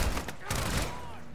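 Rapid bursts of gunfire in a video game shooter level, Koeschi Complex, crackle close by in quick succession, with a player's voice partly under the shots.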